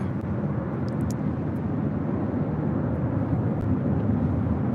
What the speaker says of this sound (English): Spirit Airlines Flight 628 coming up from Dallas, Fort Worth, Texas, and at A321